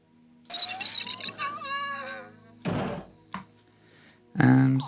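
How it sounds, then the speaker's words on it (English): The R2-D2 droid from Star Wars gives warbling electronic beeps and whistles, then falls flat with a heavy thud, followed by a short bump and another loud clatter. "R2 just sort of falls flat with a big thud"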